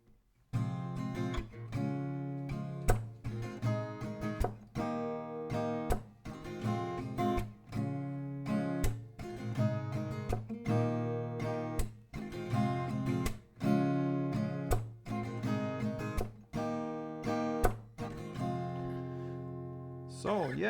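Acoustic guitar strumming the chorus of a song at standard tempo, a steady rhythmic chord pattern played close and clear, with no talking over it.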